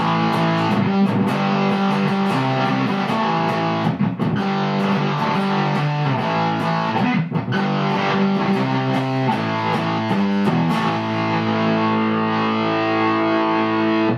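An electric guitar on its humbucker pickup plays through a modded Boss DS-1 distortion pedal (Penguin mod), tone and distortion at noon with the orange knob maxed, giving heavily saturated, sustained chords with brief breaks that ring out to quieter sustain at the end.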